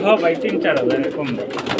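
Pigeons at a pigeon seller's stall coo continuously and close by, with soft overlapping calls that run through the whole moment and a faint human voice in the background.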